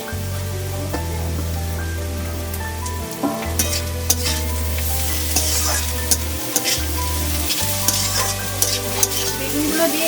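Eggplant, radish and potato frying in a pan while stirred for a spinach dish, a loud steady sizzle broken by repeated spatula clatters and scrapes over a low background hum.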